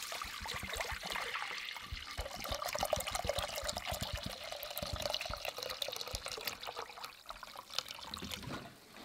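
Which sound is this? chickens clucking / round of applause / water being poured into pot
water being poured into pot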